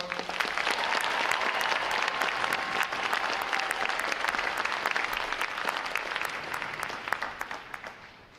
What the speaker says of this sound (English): How about a round of applause for them, folks?